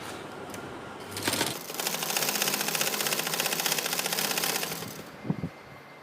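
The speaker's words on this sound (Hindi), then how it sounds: "अब मैं ट्राउज़र के जो है वो साइड्स पे सिलाई लगाऊंगी" Sewing machine stitching the side seams of trousers runs in a steady, fast mechanical whir for about four seconds after a few soft handling sounds, close and alone.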